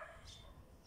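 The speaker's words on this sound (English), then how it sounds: "Are you barking at me?" A pet dog gives a quick, faint bark or yip at home, one short sound heard from a little distance.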